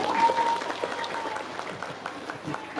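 An audience of Islamic boarding school students claps in a moderate burst of applause at a religious lecture, fairly soft and steady, with faint crowd murmur beneath.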